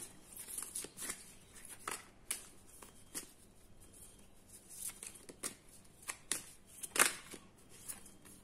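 Tarot cards are shuffled and drawn close up in a quiet room, a series of crisp riffling swishes and soft snaps arriving in irregular bursts, one louder flick near the end.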